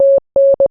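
Short sequence of pure electronic beeps spelling out a Morse code message: a long tone, a pause, another long tone, then a short one, loud and clean with silence between.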